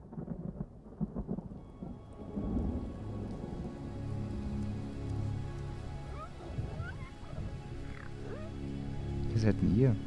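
Stormy night ambience in the video game Ori and the Will of the Wisps: steady rain with low rumbling thunder rolling throughout, a louder crack near the end, and some faint game sounds mixed in.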